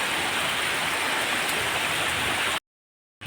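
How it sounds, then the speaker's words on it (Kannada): Heavy rain pours steadily as a dense, even roar, then cuts to silence for a moment before resuming briefly at the end. "ಮಳೆ ಜೋರು ಬರ್ತಾ ಉಂಟು."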